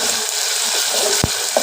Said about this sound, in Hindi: ये यहाँ पर प्याज ब्राउन हो गया था तो मैंने उसके अंदर 1 खाने का चम्मच अदरक लहसुन का पेस्ट डाला